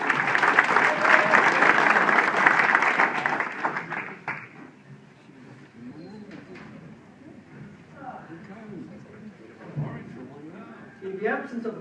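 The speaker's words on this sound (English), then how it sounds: "So please give a round of applause." Audience applause at a town event speech, a dense burst of clapping for about four seconds that dies away into quieter room noise with scattered voices and movement.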